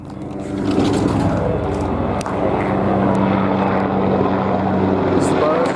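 A loud helicopter engine drone hums steadily overhead, a continuous rumbling buzz with a brief sharp click partway through.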